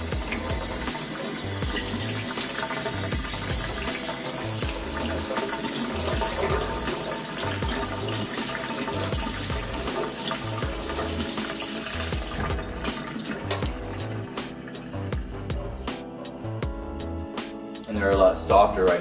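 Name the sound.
water running while rinsing soaked pecans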